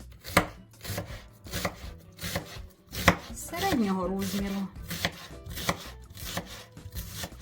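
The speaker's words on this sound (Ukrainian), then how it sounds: "я беру крупненької і нарізаю її четвертинками" A knife chops a large onion into quarters on a cutting board, evenly spaced close thuds, while a voice speaks briefly partway through.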